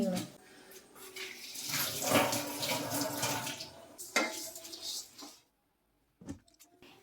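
Water gushes steadily from a tap for about five seconds, a close hissing rush, then cuts off, followed by a brief splash.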